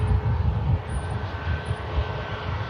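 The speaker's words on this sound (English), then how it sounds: "Spool those props up." Dash 8 turboprop engines spooling up at Manchester Airport, a broad rumbling roar that surges and settles, heard from a distance, steady over a few seconds with no talking.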